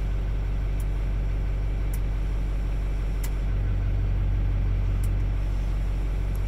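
A 2006 Duramax diesel truck engine idles up close with a steady deep rumble, its tone shifting slightly partway through, broken by faint periodic clicks.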